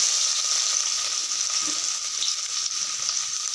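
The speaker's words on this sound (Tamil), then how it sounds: "அடுத்து வெட்டி வச்சுருக்க வெங்காயத்தை போட்டுக்கிறேன்" Chopped onions hit hot ghee and sizzle steadily, a dense continuous hiss with faint stirring, moderately close and without any voices.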